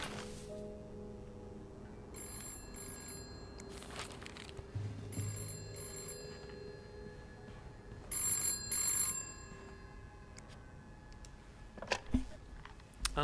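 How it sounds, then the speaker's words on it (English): A telephone rings repeatedly in the horror video game This Bed We Made, several bursts of bright bell-like trills at a steady moderate level over a low ambient game background, with no speech. "Answer the phone."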